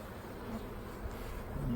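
A steady low buzzing of honeybees hums close by throughout, continuous and fairly quiet, with no clear speech over it.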